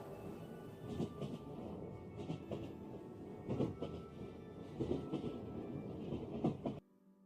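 A playful train sound effect for a whimsical "kindness train" skit, with rhythmic rumbling clatter and periodic louder bursts over about seven seconds before cutting abruptly to quiet.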